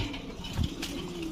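A green-eyed racing pigeon hen and other pigeons at a loft give soft low coos amid a murmuring background, one fuller coo rising midway, fairly faint and close.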